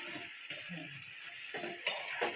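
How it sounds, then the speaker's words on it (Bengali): Chicken pieces and onion hitting hot oil in a pan with dried chilli, bay leaf and cumin, giving a steady close sizzle broken by a few sharp scrapes and clinks of a spatula. "এবার দিয়ে দেবো মাংস, দিয়ে দিলাম পেঁয়াজ"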